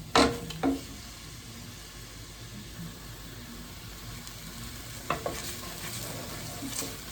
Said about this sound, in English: I turn on the cooker to let it fry nicely